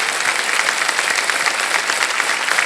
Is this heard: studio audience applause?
yes